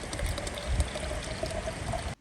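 Water splashes and gushes steadily from a tap into a campervan's water tank, parked by a tidal river. The hiss is continuous and fairly loud, and it cuts off abruptly at the end.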